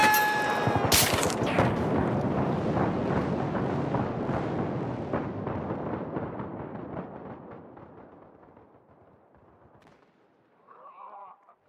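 Gunfire in Battlefield 3 opens with a loud, sharp burst of shots that rolls into a long, dense rumble of fire, fading gradually before a brief faint sound near the end.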